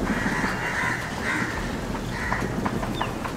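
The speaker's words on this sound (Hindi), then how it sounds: "वहाँ पर कौवा एकदम तब से बहुत देर से चिल्ला रहा है" A crow caws repeatedly outdoors, several harsh calls spread across a steady background of wind and ambient noise, picked up by a Rode VideoMicro clip-on mic.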